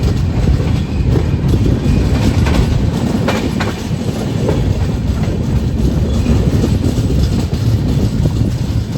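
A Hussain Sagar superfast express train running between Hyderabad and Mumbai, heard up close as a loud, continuous rumble with rhythmic clickety-clack of the wheels on the track and faint squeals, with no voices.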